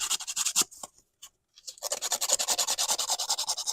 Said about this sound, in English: Just get rid of those couple of burrs from there.